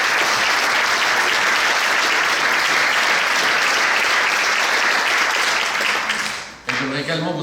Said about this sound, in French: Je vous prie d'applaudir ces messieurs pour le travail qu'ils ont fait.